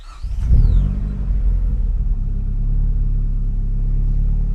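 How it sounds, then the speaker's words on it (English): A Nissan S13 Silvia fitted with an upgraded ignition coil pack cranks and starts warm, catching with a brief rev before settling into a steady, loud, low idle rumble. "It has turned on, and the car is running."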